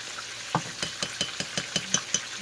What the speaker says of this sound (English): I'm just going to stir that up.